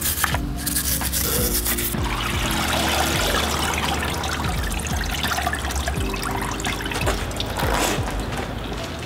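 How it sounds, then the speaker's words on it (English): Small metal-bristle scrubber brushes rasp against a rusty old steel engine block, a continuous close gritty scraping with short repeated strokes and no talking. "I just got a series of these little metal bristled scrubber brushes."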